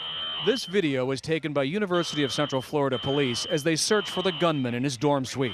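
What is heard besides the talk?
fire alarm ringing in a university dorm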